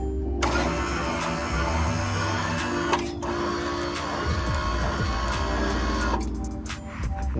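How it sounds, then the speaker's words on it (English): Electric tarp motor on a dumpster truck, its mounting damaged so the bar wobbles, running with a steady mechanical whir and hum punctuated by a clunk midway, then winding down near the end. "run my tarp motor, it does like this"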